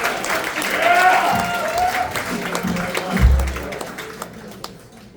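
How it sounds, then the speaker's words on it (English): A jazz club audience at a big band show applauds steadily, with dense clapping and faint cheers under a voice speaking over it, tapering off near the end. "Please give her a really warm round of applause."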